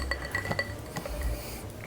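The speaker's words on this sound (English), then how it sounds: "Let's drop another ice cube in there." An ice cube drops into a cocktail glass of rye and absinthe, giving a few bright glassy clinks and a soft knock, close and quiet against faint room noise.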